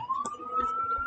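An ambulance siren in a Roblox game sounds as a thin, steady rising tone with faint background clicks, quiet and brief.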